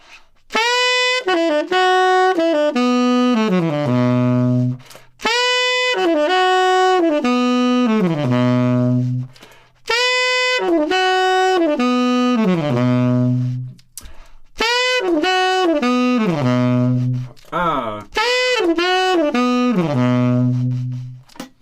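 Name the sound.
tenor saxophone playing slow melodic line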